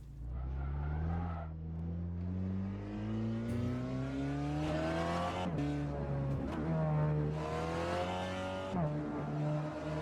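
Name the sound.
VW Golf GTI TCR race car engine on circuit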